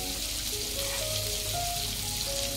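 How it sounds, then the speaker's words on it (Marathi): Prawns with a little garlic frying in a pan give a steady, dense sizzle that stays even and close from start to finish, with no one speaking. "कोळंबी फ्राय तयार झाला आहे"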